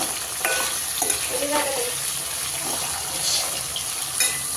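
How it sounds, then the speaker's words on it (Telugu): Carrots and potatoes fry in oil while being stirred for home-style sambar: a continuous close sizzle with scraping stir strokes and a few light knocks, and no one speaking. "ఇప్పుడు మొత్తం మళ్ళీ ఆయిల్ పట్టే వరకు కలిపేసుకుందాం."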